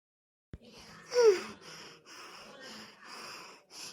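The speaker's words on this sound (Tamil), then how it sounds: "பாரு உன்னால எனக்கு மூச்சு வாங்குறது" Heavy panting from someone who has just been running: a sharp intake, then a string of breathy, wheezing gasps in an uneven rhythm, close and fairly quiet.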